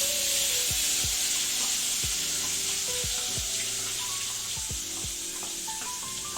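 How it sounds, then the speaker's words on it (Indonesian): A loud, steady sizzle of ground rendang spice paste frying in hot oil in a wok, broken by repeated clinks and scrapes of a utensil stirring the pan. "jika minyaknya sudah panas, kita akan masukkan bumbu rendang yang tadi kita sudah haluskan dalam wajan ini"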